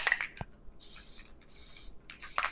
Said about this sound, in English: I'm going to do the spray glue.